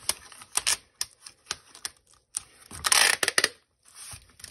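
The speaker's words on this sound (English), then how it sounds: "And then I just flip that over and tape that edge." Packing tape being pulled and pressed along the edge of a shipping box: a close series of sharp crackling rips and taps in irregular bursts, with one longer, louder tearing stretch near the middle.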